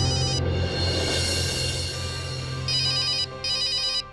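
A mobile phone ringtone rings indoors in a domestic drama scene, a steady bright electronic melody playing loudly throughout, with brief pulsing beeping bursts near the end and no talking.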